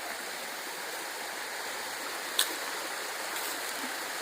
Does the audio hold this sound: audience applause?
no